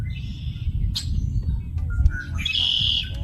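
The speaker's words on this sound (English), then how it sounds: "a bird" Bird chirps during an outdoor cannabis garden meditation, a few short bright calls scattered over a low rumbling background, with a longer warbling call near the end.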